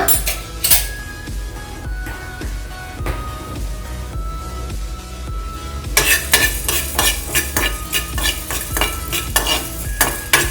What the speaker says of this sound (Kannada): ಅರ್ಧ ಟೀ ಸ್ಪೂನ್ ಅಷ್ಟು ಮೆಂತ್ಯ ಹಾಕ್ಕೊಂಡು ಹುರ್ಕೊಳ್ಬೇಕು ಚೆನ್ನಾಗಿ